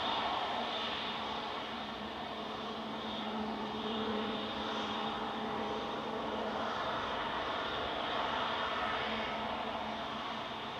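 Aircraft engines at Manchester Airport giving off a steady, droning hum with a faint whine on top, constant and even throughout, heard from a moderate distance.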